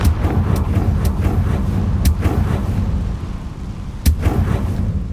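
A fire-blast spell cast in Hogwarts Legacy erupts as a series of loud, booming blasts over a dense rumbling bed, with sharp cracks recurring and a strong final burst near the end, no voices.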